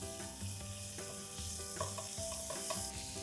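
Sliced onion with ginger, garlic and chili paste fries in a pan for Bengali-style ghugni, a soft steady sizzle under repeated stirring scrapes, with tonal background music running underneath.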